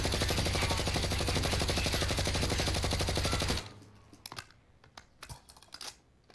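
A rifle fitted with a commando foregrip and rubberized grip tape fires full-auto in Warzone, a loud, rapid continuous burst lasting several seconds that cuts off abruptly, followed by a few scattered sharp clicks and taps.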